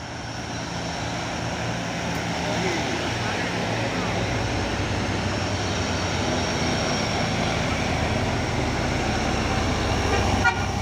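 A Bila Pandai Putra bus passes with a long, steady horn over continuous road and engine noise, fairly loud but slightly distant.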